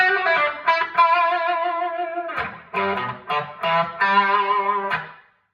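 An instrument noodled through an effects pedal board, sustained processed notes and chords with distortion and chorus-like shimmer, close and loud, ending in a fade.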